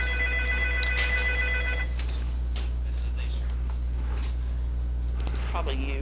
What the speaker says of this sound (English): This time, Jackson, answer that phone, please.